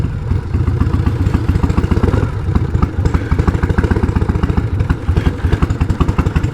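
A 1988 Harley-Davidson Heritage Softail with sidecar idles steadily nearby, its V-twin engine loping in a loud, even, uneven-fired thump that continues without break, alone with no voices.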